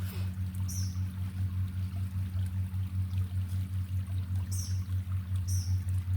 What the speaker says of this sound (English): I hope you can hear the water